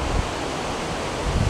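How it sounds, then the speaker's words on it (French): Strong storm wind roaring through trees beside a pond in the dark of night, a dense continuous rushing with heavy low rumble and mic buffeting, no voices. "écoutez le vent"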